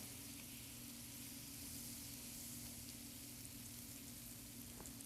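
About three tablespoons of butter melt in a pan over medium heat for a Florentine noodle sauce, giving a steady, quiet sizzle with faint crackles throughout and no talking.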